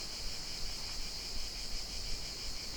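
Dense, steady buzzing of cicadas fills the air throughout, a constant shimmering drone with slight pulsing, moderately loud and unbroken, with no voices.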